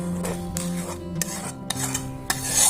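Roasted rava and besan flour being scraped out of an iron kadhai onto a plate, a close rasping scrape of a spoon against metal repeated in short strokes with a few light clinks.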